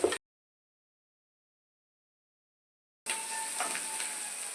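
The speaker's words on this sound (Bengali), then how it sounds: "অল্প নুন দেবো, এই পেঁয়াজটা একটু নরম হওয়ার জন্য।" Onions sizzle in hot oil with a little salt, added after garlic and ginger, for coriander chicken. A brief burst of frying, then a long silence, then a steady close crackling sizzle.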